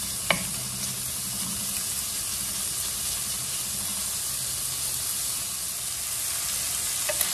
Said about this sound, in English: we put our fire on a high volume, and then we're gonna cook our bacon.